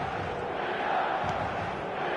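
Stadium crowd in the eFootball video game, a steady, moderately faint wash of cheering and chanting from many fans with no distinct voices over it.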